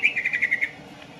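A caged green leafbird (cucak ijo) sings a rapid string of bright repeated chirps for well under a second, near and clear, then falls quiet.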